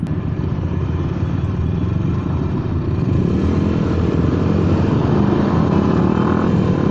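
Honda Vario 130cc carbureted scooter with a stock CDI running at top speed, its engine droning loud and constant with heavy wind rush, pitch rising slightly as it pulls harder toward the end.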